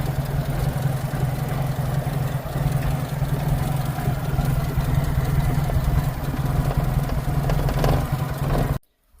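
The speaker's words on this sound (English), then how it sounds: "there's the engine running. Runs very quiet, very nice." A 4x4 engine idling smoothly and quietly with a steady low rumble, no valve or lifter tapping, continuing evenly until it cuts off at the very end.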